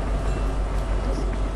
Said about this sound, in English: They just forgot the train.